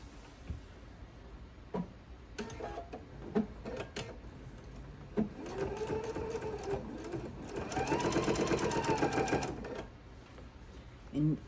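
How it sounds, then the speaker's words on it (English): A sewing machine stitches the front and back layers of an oven mitt together, with short bursts followed by a longer steady run, and a person talks over it. "I'm sewing the first side to the back side"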